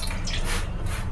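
A short measure of orange blossom water is poured for Eid pastries, a brief close trickle and splash of liquid with no talk.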